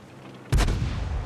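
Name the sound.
tank cannon shot in World of Tanks video game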